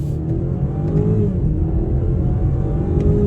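A 2023 BMW X4 xDrive30i with a turbo four-cylinder accelerates in first gear, a loud close engine drone rising steadily through a short burst.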